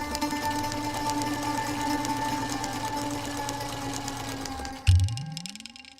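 A sewing machine runs steadily with a continuous mechanical hum and rapid needle chatter, then stops abruptly with a thud and winding-down sound near the end.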